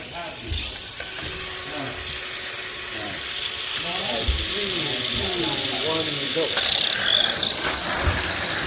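Mini 4WD toy cars on MS chassis whir and rattle steadily around a track, a constant buzzing motor drone with clicking as they run, while people talk and cheer over it.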